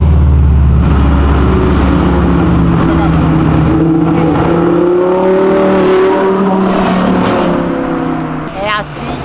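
An Audi R8 V10 revs hard at a Euroday car meet, its loud engine climbing and holding high pitch for several seconds before easing off, up close with voices around.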